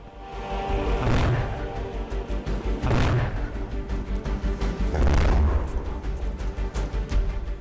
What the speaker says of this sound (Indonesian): sebuah ledakan besar terjadi